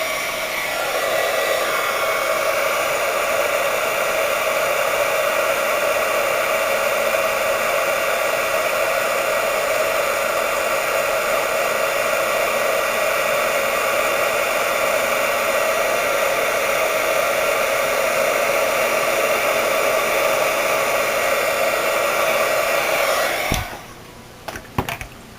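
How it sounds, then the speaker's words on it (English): Heat gun blowing steadily on embossing powder over polymer clay masks, a loud continuous whooshing whir held close for over twenty seconds before it cuts off near the end. "since my heat gun's been hot since the first time, I don't have to keep reheating it off to the side"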